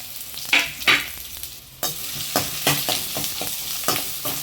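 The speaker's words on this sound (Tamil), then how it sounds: "இப்போ இதில் வந்து வெங்காயம் பூண்டு கருவேப்பிலை இது மூணுத்தையும் ஒன்றா சேர்த்துடலாம்" Onion, garlic and curry leaves hit hot oil with a sharp sizzle, then keep frying under repeated spoon stirs and scrapes in a pan for okra kara kuzhambu, close and fairly loud.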